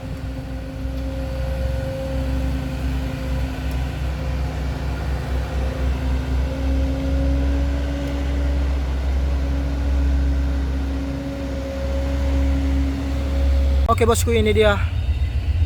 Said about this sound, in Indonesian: truk tangki yang akan menarik truk canter yang jumping tadi bosku.